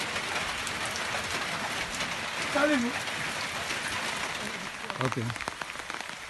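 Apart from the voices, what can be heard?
rain falling outdoors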